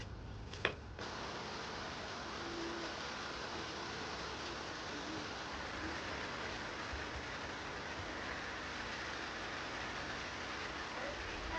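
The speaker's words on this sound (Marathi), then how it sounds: "हलका पाऊस चाललाय" Steady light rain patters on a surface in a village setting, a soft continuous hiss with one sharp tap near the start.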